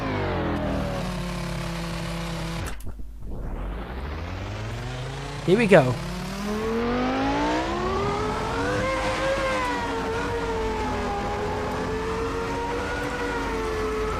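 A Formula One car engine in the racing game Assetto Corsa cuts out briefly, then revs up in loud, rising, whining sweeps that settle into a sustained high roar, with a short spoken phrase near the start.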